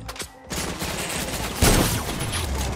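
Gunfire in Fortnite Playgrounds breaks out as a dense rattling burst, with a sharper, louder shot about midway through.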